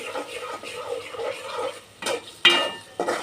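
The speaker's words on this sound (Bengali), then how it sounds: "এই যে পেঁয়াজ দিয়ে দিলাম, কয়েকটা কাঁচামরিচ দিয়ে দিব। পেঁয়াজটা একটু হালকা ভেজে নেই।" Onions and green chillies fry lightly in a pan with a soft, steady sizzle, broken by a few sharp scrapes and clinks of a utensil against the pan near the end.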